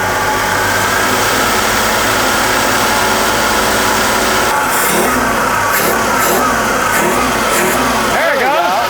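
A 1954 Chevrolet Bel Air engine runs on its own, a loud close idle that rises and falls in uneven surges, with people talking over it.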